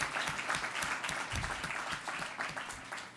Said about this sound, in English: We should clap for ourselves.